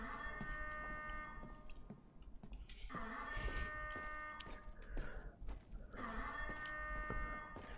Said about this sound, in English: Whoever triggered that alarm is inside.